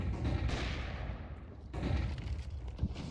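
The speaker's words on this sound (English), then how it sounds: "Lots of flashbangs being lobbed in." Flashbang grenades and gunfire in a Counter-Strike match on the Nuke map, dense rumbling bursts of shots and pops layered over a continuous game din, fairly loud with no talking.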